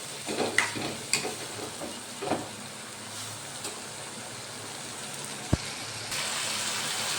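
Moong dal (yellow split mung lentils) simmering in a pan, a soft steady sizzle and bubbling hiss with a few faint clinks and one sharp tap, close and fairly quiet, no voices.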